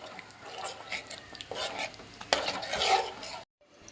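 A chicken chilli mixture of cornflour, salt and lemon juice is stirred in a bowl, giving brisk wet scraping and clinking close up. A soft voice is heard beneath it, and the sound stops abruptly near the end.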